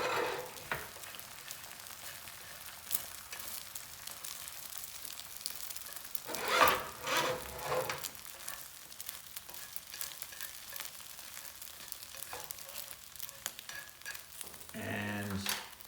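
Scrambled eggs frying in a pan, pushed toward the center with chopsticks: a soft steady sizzle with occasional scraping and clatter, one louder burst of stirring partway through and a brief voice near the end.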